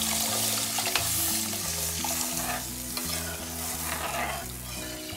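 Tamarind pulusu with turkey berries being stirred in a pan, a steady bubbling sizzle with a faint scraping spoon, under a loud droning background hum.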